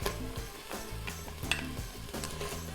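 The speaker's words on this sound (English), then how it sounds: "Got my bamboo spatula. I'm just going to get that distributed right in there. I'm going to go ahead and put in my white onions." A bamboo spatula scrapes and stirs ginger and white onions in a hot Instant Pot, giving soft repeated scrapes over a steady sizzle for a few seconds.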